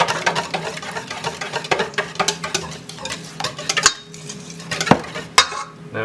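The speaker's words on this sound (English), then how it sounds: "So whisk those in quickly" Eggs whisked quickly into brownie batter in a bowl, a rapid rhythmic clatter of whisk against the bowl, close and fairly loud, with a few sharper clinks near the end.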